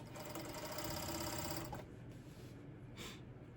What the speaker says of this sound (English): as I'm serging this, I'm just gonna pull my elastic just a little bit